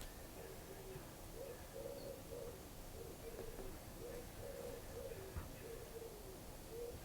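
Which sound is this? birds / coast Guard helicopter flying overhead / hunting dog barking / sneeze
birds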